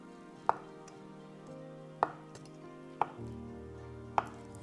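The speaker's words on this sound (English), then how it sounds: "I'm gonna start off with chopping some tofu." A knife chopping tofu on a board, four distinct sharp knocks spaced about a second apart, close and clear over a quiet kitchen background with no talk.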